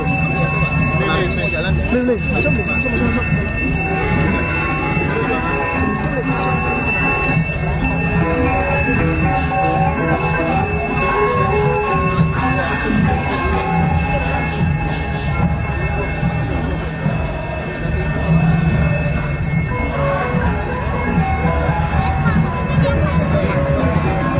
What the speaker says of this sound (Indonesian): today is accompanied by the Gong Suling Gamelan Ensemble